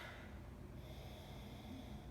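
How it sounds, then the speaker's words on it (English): Someone takes a close, breathy sniff of a gold West Coast IPA beer, a brief sustained nasal inhale heard up close with no talking. "let's give it a sniff."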